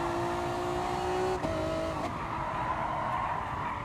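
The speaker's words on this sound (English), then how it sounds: "The rear is just drifting around." Race car in Gran Turismo Sport drifting with its rear tyres worn out: steady engine roar with sustained tyre squeal that shifts pitch, continuous and fairly close throughout.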